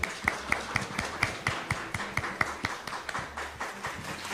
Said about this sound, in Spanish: Un aplauso para nuestro escritor, por favor.